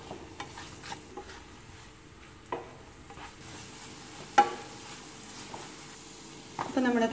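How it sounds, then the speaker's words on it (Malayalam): Tomato, onion, ginger and garlic with salt being stirred in a pan for egg bhurji, quiet scraping and soft sizzle with a few sharper spoon knocks, louder stirring toward the end. "ഉപ്പ് ചേർത്തിട്ട് വീണ്ടും ഇളക്കുന്നു."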